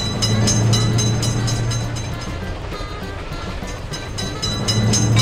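A train rolls past a level crossing in an Indian railway video game, a steady loud rumble with faint rhythmic wheel clatter that dips slightly in the middle and swells again.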